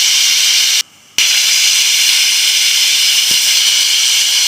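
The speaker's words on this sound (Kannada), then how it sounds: "ಮುಚ್ಚಳ ಮುಚ್ಚಿದ್ದೀನಿ, ವಿಷಲ್ ಬರಲಿ." A pressure cooker whistling as brinjal cooks inside, a loud continuous close steam hiss that cuts out for a moment and then resumes steadily, with no talking.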